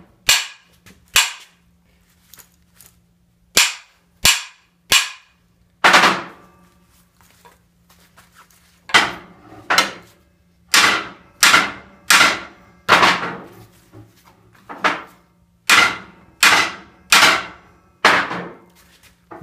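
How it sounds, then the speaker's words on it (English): Sharp metallic hammer blows strike a Jeep driveshaft to loosen binding U-joint clips, loud close cracks in irregular bursts with quiet gaps, then a quicker run of evenly spaced whacks. "all you need is to smack it with the hammer a few times"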